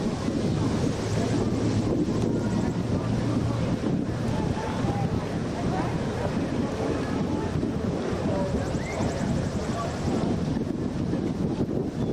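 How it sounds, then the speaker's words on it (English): Strong wind roars over a sailboat during the Mackinac race, a loud continuous buffeting rush mixed with water wash and microphone wind noise, steady throughout, with faint voices beneath. "getting some wind building up"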